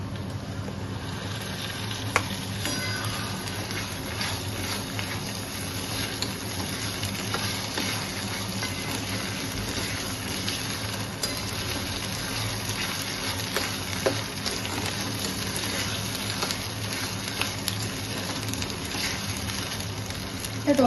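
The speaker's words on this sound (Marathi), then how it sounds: "आता आपण यामध्ये टोमॅटो ऍड करू।" Tomatoes going into a pan of sizzling prawn masala, Agri style, giving a steady moderate frying hiss that runs on throughout with occasional small clinks and bursts of stirring.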